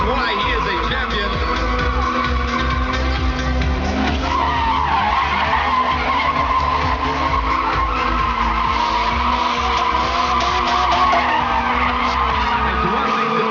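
Lotus F1 cars drifting at the Quirino Grandstand in Manila, tires skidding and squealing continuously under a loud roaring engine, with crowd noise and a commentator's voice running underneath throughout.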